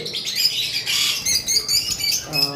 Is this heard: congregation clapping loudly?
no